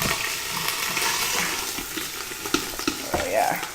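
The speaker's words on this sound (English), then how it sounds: "Sounds like it's frying up nicely." Whole chicken frying in oil inside an Instant Pot, a continuous close sizzle and crackle with scattered pops and a brief scrape near the end.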